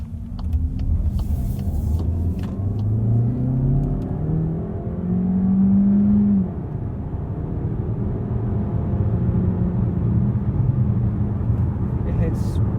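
Engine of a 2024 Skoda Kodiaq iV plug-in hybrid heard from inside the cabin while driving: a steady low drone whose pitch sweeps up and eases back, with muffled voices at times.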